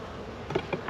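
A few bees inside a sparsely populated spring hive in Michigan, a faint close buzz with brief louder passes near the end, alone with no talk.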